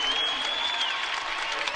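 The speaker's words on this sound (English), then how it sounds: "as this crowd stands to applaud the Phoenix" College basketball crowd standing to applaud the Phoenix, a dense, sustained burst of clapping throughout with a high whistle tone running across it and a voice talking over it.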